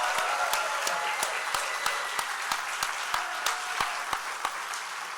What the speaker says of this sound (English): one more round of applause for Sister Anne and Sister Cheryl